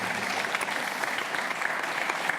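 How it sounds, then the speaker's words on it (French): A studio audience applauding steadily, dense even clapping at a constant level throughout with no talk over it. "on les applaudit"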